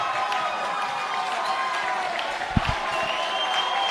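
A football crowd at a men's Premier League grand final applauds a tackle, a steady, moderately distant wash of clapping and murmuring voices with a couple of low thumps near the end.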